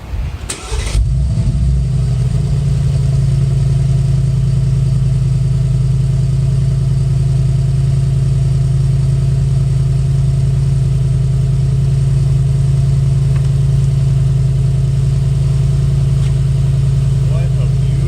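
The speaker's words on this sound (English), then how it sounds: "new 4-liter twin turbo V8 engine" A 2019 Mercedes-AMG G63's 4-liter twin-turbo V8 cranks and fires, roars up loudly, then holds a steady, heavy idle rumble for a long stretch.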